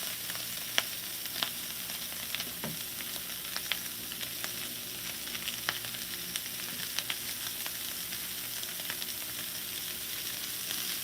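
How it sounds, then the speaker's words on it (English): Sausage, potatoes, peppers and onions sizzle steadily in a hot pan, a close, continuous crackling hiss dotted with small pops and the occasional stir, no voices. "Listen to that sizzle."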